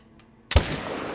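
A single sharp hunting-rifle shot cracks loudly and close during a mule deer hunt in theHunter: Call of the Wild, then decays into a brief rolling echo after a quiet lead-in.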